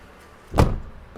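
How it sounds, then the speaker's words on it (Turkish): A single short car door opening sound after a fix for door wind noise, a soft thud with a brief rush of noise, up close, followed by quiet. "Kapının açılış sesi bile düzeldi."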